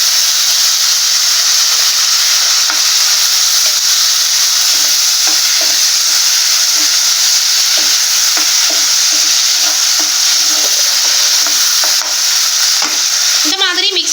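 Chopped medium tomato being stirred into golden-brown onions frying in a pan, with a steady sizzling hiss and bursts of scraping and stirring throughout, no talking.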